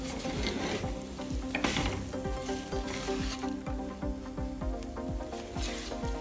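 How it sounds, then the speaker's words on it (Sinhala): A spoon stirs a thick Sri Lankan jackfruit curry mixture with tamarind in a pan, soft repeated scraping strokes in a steady rhythm over a faint sizzle, close and quiet with no talking. "දැන් ඉතින් හොඳට කලවම් කරගන්න තියෙන්නේ මේ මිශ්‍රණය"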